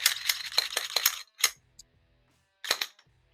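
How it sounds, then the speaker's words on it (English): Unloaded Glock 17 pistol being dry fired and handled with no magazine inserted, giving a few sharp close metallic clicks and clacks with gaps of silence between them and no talking. "we're going to dry fire with one of my Glock 17s"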